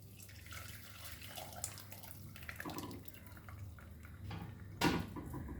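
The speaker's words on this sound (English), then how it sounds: "So now I will strain this in a strainer." Curdled spoiled milk poured through a strainer for homemade cream cheese, giving soft running and trickling liquid with light splashes and a brief louder pour near the end.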